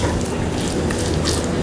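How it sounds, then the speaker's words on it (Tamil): A flax seed and lemon juice mixture is stirred in a hot pan on a gas stove, giving a loud, steady sizzle with scraping of the spoon throughout. "இப்போ இது எல்லாத்தையும் நம்ம மிக்ஸ் பண்ணிக்கிடுவோம்."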